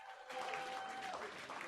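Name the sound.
applause sound effect played on a stream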